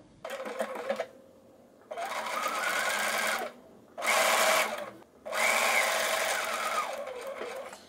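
Sewing machine stitching piping onto a blouse, running in three sustained bursts of close, steady whirring with short pauses between, plus a brief stretch of stitching at the very start.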